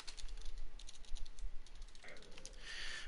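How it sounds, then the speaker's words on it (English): Typing on a computer keyboard at a desk, with a quick, steady run of soft clicks close to the microphone. "Also, I apologize if you hear clicking."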